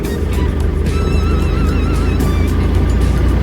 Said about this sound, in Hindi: देखो दोस्तों, नेशनल हाईवे पर गाड़ियों का जाम लगा हुआ।